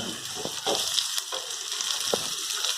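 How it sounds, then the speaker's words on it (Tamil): Onions frying in oil for kudal fry (goat intestine fry), giving a continuous close sizzle with occasional light crackles and scrapes, and no speech. "இந்த வெங்காயத்தை போட்டு அந்த நல்லா எண்ணெயில் வந்து கொஞ்சம் நல்லா வேகிற அளவுக்கு விட்டுருங்க"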